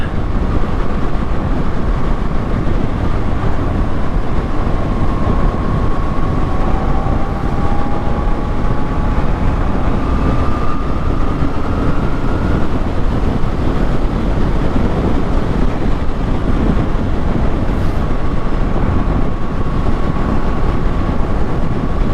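Moto Guzzi V7 Special motorcycle ridden at speed: a steady engine drone under heavy rushing wind noise, with a faint rising whine as revs climb, loud and continuous throughout.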